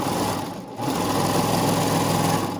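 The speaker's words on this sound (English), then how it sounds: "Sergers are noisy." A serger sewing machine stitches stretchy leggings fabric with a loud, close, rapid mechanical whir that dips briefly and then runs steadily, with no talking.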